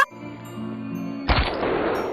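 A gunshot in the 2021 film Prey, a sudden sharp crack with a booming low thump that breaks in after a stretch of sustained tonal music, followed by a dense ringing tail.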